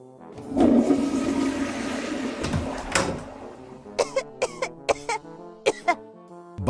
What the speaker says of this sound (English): coughs without covering his mouth and does not wash his hands after going to the bathroom